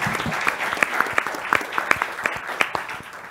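An audience claps steadily after a talk on health prevention and promotion in Québec, with dense, even applause and a few sharper individual claps standing out, fairly close and without talking.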